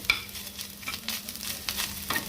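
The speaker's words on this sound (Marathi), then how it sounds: "आता दोन मिनटं परतून घ्यायचं आहे थोडंसं मॉइश्चर त्यातलं कमी व्हायला पाहिजे" Freshly grated coconut is sautéed and stirred in a pan, with soft scraping strokes of a spatula repeating every half second or so over a faint, quiet sizzle.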